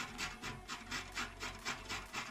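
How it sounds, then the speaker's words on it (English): Coconut is grated by hand for coconut candy, giving a close, rhythmic rasping scrape repeated about ten times in even strokes, with no talk. "Okay, so just grate it like this."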